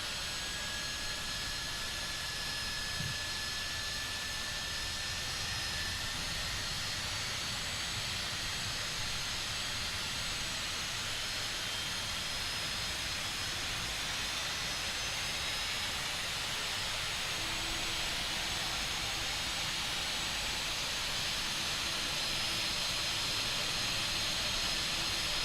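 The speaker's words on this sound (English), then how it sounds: "Engine 1 will set to run, and starter engaged on that one." A Citation Longitude jet engine spools up in Microsoft Flight Simulator, a steady, loud turbine roar with broad hiss and a thin whine that holds throughout, with no voices.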